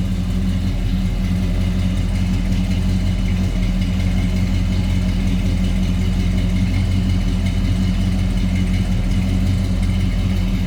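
A 1975 Ford Torino Elite's 400 engine idles with a steady, low rumble, close and continuous throughout, with no talking over it.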